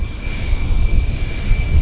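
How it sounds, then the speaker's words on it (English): Delta Connection regional airliner at Vancouver airport, its jet engines giving a steady, loud, broadband roar with a faint high whine, continuous throughout with no talking. "this Delta connection is going ahead of the WestJet"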